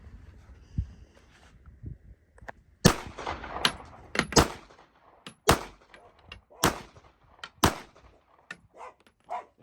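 Glock 19-sized pistol shots fired into dirt outdoors: about nine sharp, loud reports spaced irregularly across the stretch, each with a short ringing tail, after a few quieter thumps and rustles at the start.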